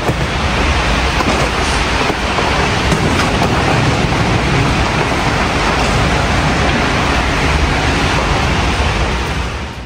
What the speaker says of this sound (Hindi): इतनी तेज़ बारिश थी कि मैं आपको बारिश की आवाज़ सुनाती हूँ